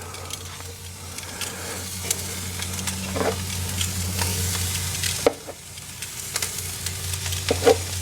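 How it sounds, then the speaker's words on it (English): Steady, close sizzling and crackling of chicken wings cooking directly over the fire of a Kamado Joe grill, with a few sharp pops and shuffling movements. "You hear that sizzle?"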